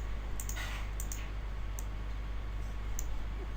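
Several quiet, sharp computer mouse clicks, spaced irregularly, over a steady low electrical hum while working in SolidWorks CAD software.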